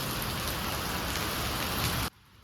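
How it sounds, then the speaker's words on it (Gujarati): Heavy monsoon rain pours down in a dense, steady roar at close range, then cuts off abruptly near the end. "બપોરના 3 વાગે ધબધબાટી વરસાદ બોલાવે છે"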